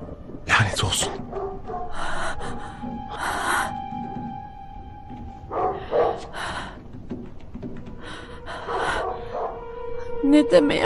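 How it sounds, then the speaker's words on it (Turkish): A dog barks in short bursts, several loud yaps spread across the scene in a dubbed action film, mixed with breathy voices and scuffling, fairly close. "Ne demeye havlıyor bu köpek?"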